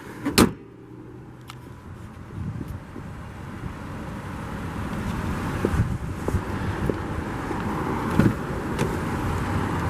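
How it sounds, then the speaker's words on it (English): A 2003 Infiniti G35 sedan's V6 runs with a steady low rumble, joined by occasional sharp clicks and a faint whirring of a power window nearby. "You just have that great, unique V6 sound from it as well"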